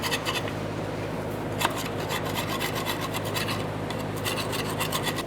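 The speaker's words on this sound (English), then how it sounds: "To clean this out of here, we're going to use a scraper." A hand scraper cleans old gasket material off an exhaust flange on a 1992–1996 Toyota Camry catalytic converter pipe, a close, continuous raspy scraping made of quick repeated strokes, with no speech.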